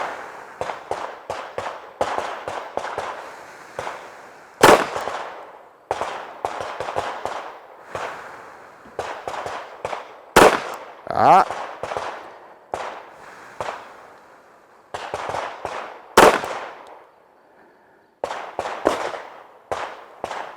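Pistol shots fired in strings of three to five while zeroing a red dot sight at a shooting conference, sharp loud cracks spaced with pauses between strings, recorded outdoors with no talk.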